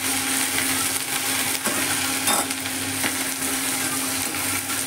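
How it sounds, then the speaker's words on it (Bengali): Okra fries in a pan with salt and turmeric, giving a steady loud sizzle while a utensil stirs and scrapes through it with occasional knocks, close up and without talking. "এবার এটাকে আমি নেড়ে চেড়ে ভালো করে মিক্স করে নিব।"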